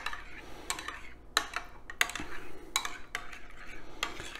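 A spoon clinking against a bowl while mixing a sticky sauce for pork loin bites, several sharp taps and scrapes at an irregular rhythm, close and fairly quiet.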